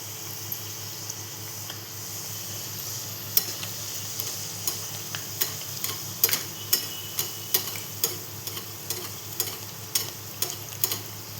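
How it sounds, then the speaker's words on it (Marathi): Puris fry in hot oil in a home kitchen, giving a steady close sizzle and bubbling. Regular sharp ticks and light clacks of a utensil against the pan sound over it. "त्यात आपलं तेल पण तापलेलं आहे, तर आपण पुरी सोडूया आता त्यात."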